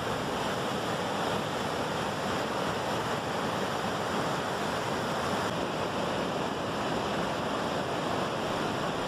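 Roaring Class 6 whitewater rapids at Niagara Falls, a steady, dense wash of rushing water filling the whole stretch with no pauses and no voices.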